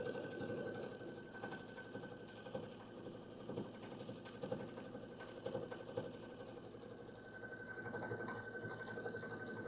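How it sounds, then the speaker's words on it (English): An embroidery sewing machine runs a satin stitch in a steady, rapid mechanical rhythm of needle thumps with a faint whine on top, quiet and continuous with no voices. "We put it back in, and then it will satin stitch the whole thing."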